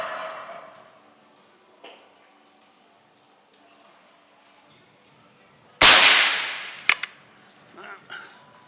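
A single sharp, loud crack of an air rifle pellet shot rings out alone, with a quick metallic follow-up clang, during a scope test of a Nikko Stirling Hornet 10-50x60 scope.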